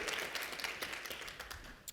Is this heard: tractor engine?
no